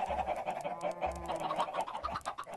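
Chickens clucking in the Minecraft video game, a few short game-style clucks repeating at a moderate pace over a steady background, with no talking.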